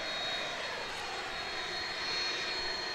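MD-11 airliner at DFW airport, its engines giving a steady, distant roar with a broad hiss that holds evenly throughout, with no talk over it.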